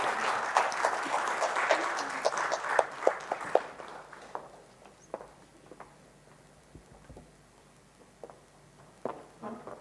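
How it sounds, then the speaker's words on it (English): Applause at a SABERA event on CSR and GST, starting as a brisk round of clapping from a modest audience, then thinning out into scattered, individual claps that trail off sporadically. "With a loud round of applause,"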